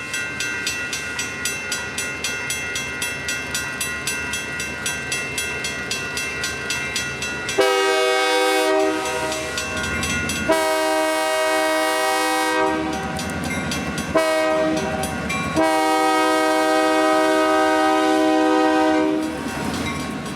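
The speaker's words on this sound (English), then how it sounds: "our northbound train is on the move out of town and wide open, pulling over 24 cars up the steep grade" Northbound freight train of over 24 cars climbing a steep grade, engine wide open on the Georgia Northeastern Railroad, with loud sustained multi-tone horn blasts in several bursts over a rumbling, clicking engine and wheels.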